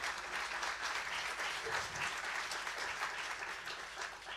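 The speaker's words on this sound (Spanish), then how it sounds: "Aplauso de golf." Quiet, polite golf-style applause from a church congregation, a soft continuous patter of hands held at an even low level for several seconds.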